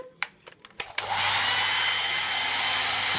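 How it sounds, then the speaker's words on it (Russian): A hair dryer switches on after a few sharp knocks and handling sounds, then runs with a steady, loud, close-up broadband whoosh for the rest of the clip. "Извини, фен сейчас сломаешь."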